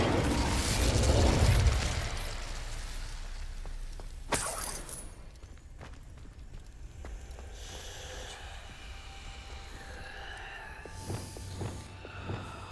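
A fire spell cast in Hogwarts Legacy: a loud whooshing, crackling burst of flame in the first two seconds, a sharp crack near four seconds, then a quieter magical ambience with faint tonal shimmers.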